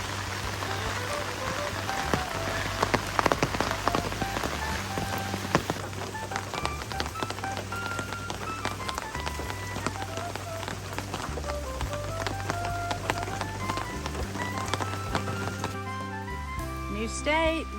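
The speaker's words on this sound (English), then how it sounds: "Yeah, it's raining again really hard." Heavy rain pouring during a road walk on the Appalachian Trail entering Connecticut amid flooding, a dense continuous hiss of drops hitting surfaces close around, steady throughout with a low rumble underneath.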